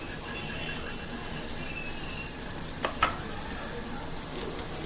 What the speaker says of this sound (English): Flip it over and then add the egg.